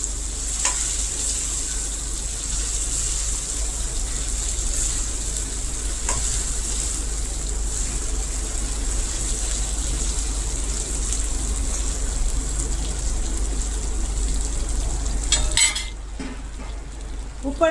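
Gunda (glue berries) frying in a pan over low gas, a steady close sizzle with faint stirring and scraping throughout, a brief clatter near the end.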